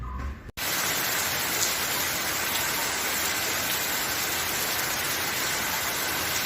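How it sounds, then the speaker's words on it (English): Steady, dense rain pours down continuously, a broad hissing wash that fills the whole stretch after a brief quiet start. "It's raining."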